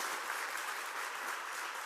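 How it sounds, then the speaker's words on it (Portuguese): A church congregation applauds, a dense, even wash of many hands clapping together, sustained and fairly close throughout. "Vamos dar um aplauso ao Senhor pela vida dos nossos visitantes."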